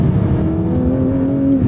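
A Porsche 718 Cayman GTS 4.0 with its naturally aspirated flat-six engine pulls hard under acceleration, a steady, loud, close rising drone with the pitch climbing smoothly throughout.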